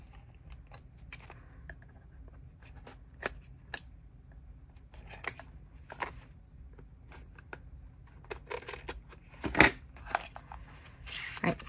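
Scissors cut open a taped package of washi tape, giving sparse close snips and crinkly rustles of plastic and paper in a quiet room, with a sharper burst of handling noise near the end.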